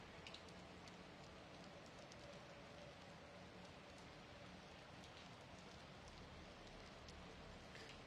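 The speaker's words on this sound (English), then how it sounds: "You can hear the rain a little bit, so that's nice." Steady rain falling outside, a soft continuous patter heard faintly in the background at even loudness, with no talking over it.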